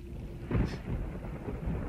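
Thunder rumbles through a steady rainstorm in the video game Resident Evil 3 Remake, with one louder, close crack and a rolling swell over continuous rain, no speech.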